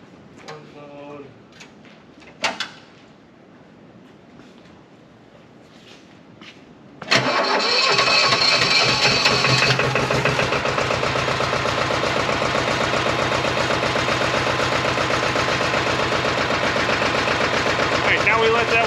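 A hangar engine starts up after a few faint clicks and clunks, then settles into a loud, steady idle as it warms up, running continuously to the end.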